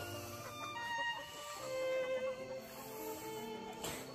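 Chickens cluck and murmur nearby in a coop, soft overlapping calls against a busy, noisy background, with no talk.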